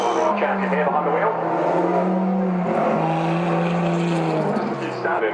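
Race car with a turbocharged 2.3-litre Ford EcoBoost engine of about 400 horsepower, a loud steady engine drone with shifting pitch close by at Goodwood Festival of Speed, with a voice talking over it.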